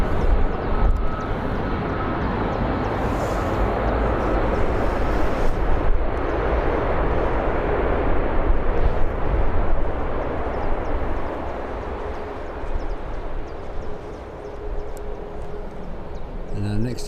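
A departing airliner at Birmingham Airport gives a steady, loud broadband jet roar that swells and then slowly fades over the whole stretch, with a faint high whine and wind-like noise; no speech is heard.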